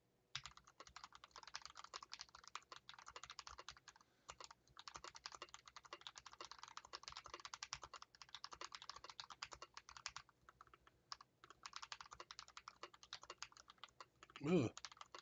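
Rapid, continuous computer keyboard typing during a speed test, dense clatter of keystrokes with brief pauses, close and moderately loud, ending in a louder thump or exclamation.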